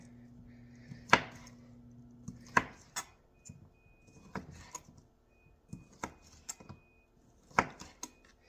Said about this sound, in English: it's a good width across there to cut through these sausages